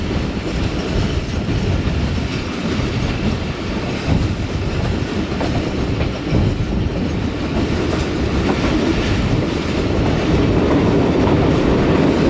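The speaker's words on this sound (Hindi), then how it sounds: "दोस्तों ट्रेन हमारी दीना शहर में दाखिल हो रही है और अभी दीना रेलवे स्टेशन से पास थ्रू करेगी।" The Rehman Baba Express train runs through Dina, a loud, continuous rumble with rhythmic clickety-clack of wheels on rail joints, heard close and steady throughout with no talk.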